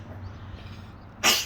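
A single sharp sneeze bursts out suddenly after a stretch of quiet room tone, loud and close.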